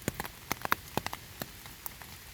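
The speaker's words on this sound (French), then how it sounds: "Passez le rideau de pluie" Rain pattering in scattered, distinct drops, a curtain of rain falling before a cave entrance; quiet and sparse, with no voices.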